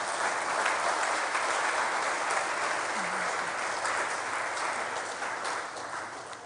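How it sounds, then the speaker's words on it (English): A hall audience at an inaugural lecture gives the chair a round of applause, a dense, steady roar of clapping that holds at full strength throughout and eases slightly near the end. "a round of applause, please?"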